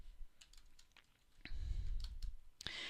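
Keys clack on a computer keyboard in quick, irregular bursts of crisp, close clicks, with a few heavier keystrokes standing out, all quiet and free of talk.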